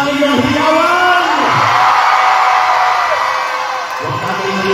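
A large political rally crowd roars with sustained cheering, whoops and yells, loud and dense throughout with a slight dip near the end.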